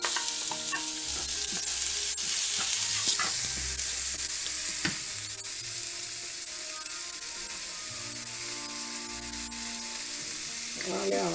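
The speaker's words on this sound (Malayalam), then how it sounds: "സവാള ഒന്ന് നന്നായിട്ട് വഴറ്റി വരുമ്പോൾ" Sliced onions sauté in hot oil with curry leaves for a Kerala cabbage thoran, sizzling steadily with a spoon stirring and scraping the pan at close range throughout.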